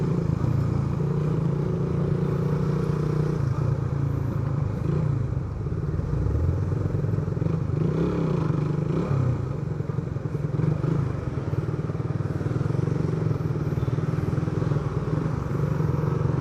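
A dirt bike motorcycle rides along with a steady, loud, droning engine roar, wind buffeting and occasional clattering throughout.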